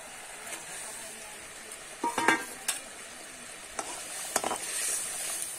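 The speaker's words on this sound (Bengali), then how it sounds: "একটুখানি আমি এইভাবে নাড়িয়ে চাড়িয়ে দেবো।" Fish curry with kasuri methi is stirred in a frying pan: a soft, steady sizzle runs underneath while a few sharp scraping strokes of the spatula cut through, fairly quiet and close.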